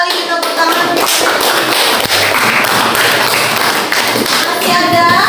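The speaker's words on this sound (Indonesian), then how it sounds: "Tepuk tangan." Students clap together in a classroom during a teacher's practice lesson, loud fast clapping that stays dense and even throughout, close to the listener.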